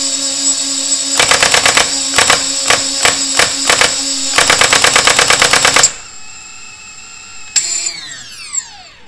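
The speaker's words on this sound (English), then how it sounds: "Sometimes it makes that cool little revving sound at the end there when you turn it off." A Kang Tao Nerf blaster spins its motors to a high whine while the solenoid fires rapid bursts of sharp mechanical clacks, first in short volleys, then a longer run, before the motors wind down with a fading rev.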